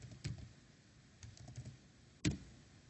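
Sparse, faint keystrokes on a computer keyboard while code is written for Appium mobile gesture automation, a few isolated taps ending in one sharper click, with no talking.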